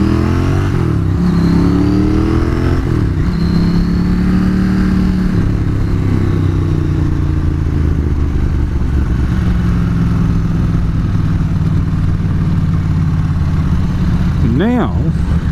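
A Ducati 900SS motorcycle with a modified clutch ridden in low gear, its engine droning and revving with rising and falling pitch under wind noise, while a rider talks over it.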